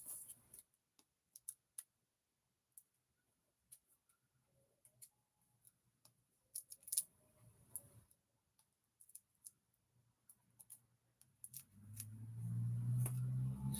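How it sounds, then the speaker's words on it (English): Small scissors make scattered quiet snips while cutting foam dimensional adhesives for card making, faint clicks spread irregularly through a near-silent room, with a low rumble near the end. "you could always cut your standard ones"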